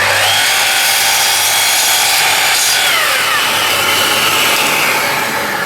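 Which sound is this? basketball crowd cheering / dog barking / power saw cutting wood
power saw cutting wood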